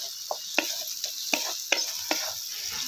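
Onion-garlic masala stir-fried in a pan for soybean bhurji, a steady sizzle with a series of spoon scrapes and taps at an uneven rhythm, close and fairly quiet, with no voices.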